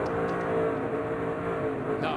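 A low-slung Chevy race car at Daytona screams along from an onboard position, its engine note steady and loud across the short stretch, with a faint voice mixed in.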